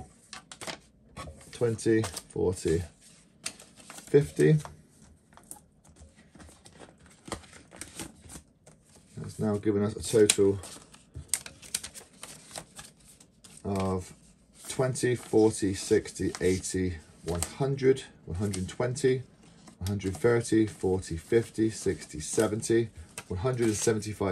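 Banknotes being handled and slipped into a rent envelope in a cash-stuffing budget routine, bursts of crisp paper rustling and flicking that pause between sections, under and alongside a voice talking.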